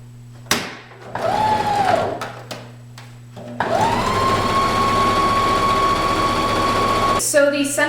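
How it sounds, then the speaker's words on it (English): A sewing machine stitches the center front and back seams of homemade leggings, starting in a short burst, pausing, then running steadily for several seconds up close with a continuous motor whir and rapid needle clatter. "Now I'm going to start sewing."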